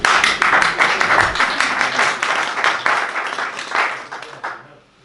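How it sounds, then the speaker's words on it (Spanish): Audience applause after a biology talk in a lecture hall, a dense run of many hands clapping that holds steady for several seconds and then tapers off toward the end. "muchas gracias por vuestra asistencia y por este generoso e inmerecido aplauso"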